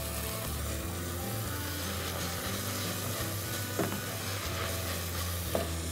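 Chopped onion and celery sauté in a pot for lentil soup, a steady low sizzle with a spoon stirring and occasional sharp scrapes and knocks against the pot.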